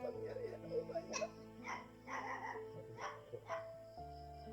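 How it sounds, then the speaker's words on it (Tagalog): Several dogs bark and yip in short bursts at a rural hut, fairly faint and somewhat distant, mixed with low hum and background sounds. "Marami palang aso dito si Lulu"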